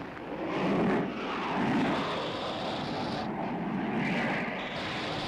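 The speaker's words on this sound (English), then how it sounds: "A couple of miniature planes explode here." Miniature airplanes in a 1955 Godzilla film scene give a steady, rushing engine roar with wind-like noise that swells slightly and holds without pause; no distinct explosion stands out.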